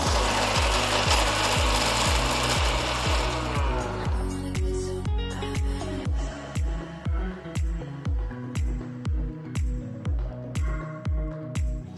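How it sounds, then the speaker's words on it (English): Mixer grinder jar pulverizing cooled roasted spices into fine powder, starting with a loud continuous whirring grind, then breaking into short, evenly spaced pulsed bursts. "and grind it to a nice fine powder."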